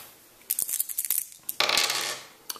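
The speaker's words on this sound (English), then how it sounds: "Then we'll roll 4 dice." Four dice tumble and clatter on a tabletop during a board game, a rapid burst of sharp clicks followed by a longer rattling roll and one final click, close and loud with no talking.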